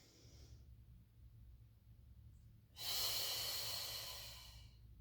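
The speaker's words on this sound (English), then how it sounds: "And we're gonna inhale, arms and legs move away. And exhale back." Breathing during a Pilates mat exercise: a quiet, steady inhale at first, then a louder, airy exhale lasting about two seconds that fades out, close to the listener with no talking.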